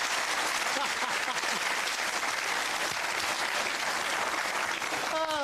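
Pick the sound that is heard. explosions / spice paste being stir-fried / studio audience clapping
studio audience clapping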